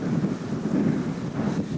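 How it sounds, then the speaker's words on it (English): Wind buffets an outdoor microphone in a steady low rumble, gusting throughout the short stretch with no voices. "it's a little too windy"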